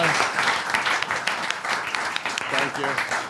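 Applause from the audience at a live wrestling podcast Q&A in Toronto, with dense, steady clapping throughout and voices talking over it.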